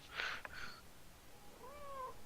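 A cat gives two faint meows, a short sharp one followed by a softer, drawn-out call after a pause, quiet and somewhat distant.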